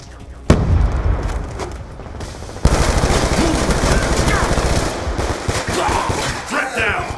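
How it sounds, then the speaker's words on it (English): A grenade explodes with a heavy boom in Call of Duty Black Ops 2, followed by a second blast and a sustained rattle of gunfire and battle noise, loud and close. "Grenade!"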